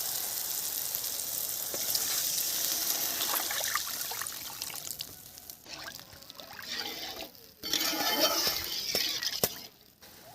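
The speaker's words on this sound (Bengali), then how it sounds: "তো এই সময়ে আমি জল দিয়ে দেবো।" Water poured into a hot pan of frying spices for prawn curry, a loud hiss and sizzle with trickling liquid, settling into bubbling and stirring sounds.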